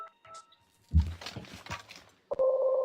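A telephone rings in the strategy game Civilization V, a steady electronic tone that cuts in near the end after a stretch of quiet clicks and muffled game sounds.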